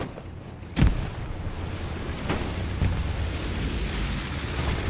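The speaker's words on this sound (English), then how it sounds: "Bomb Run is coming in as well." Bomb run explosions in the Hell Let Loose video game, two or three heavy booms with a sharp one near the start, over a dense constant rumble of battlefield noise.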